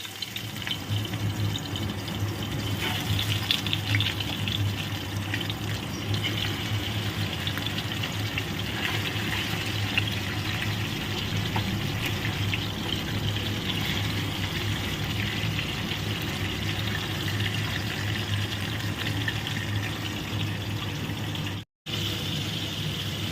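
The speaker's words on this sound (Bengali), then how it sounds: "তো তেল আমার খুব ভালো করে গরমও হয়ে গেছে। তো দিয়ে দিচ্ছি মাছগুলো ভাজতে।" Fish sizzling in very hot mustard oil for a curry, a dense, steady, close frying hiss that runs unbroken for over twenty seconds, dropping out only for a moment near the end.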